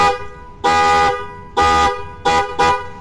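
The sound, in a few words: Hyundai Creta horn fitted on a Maruti Swift car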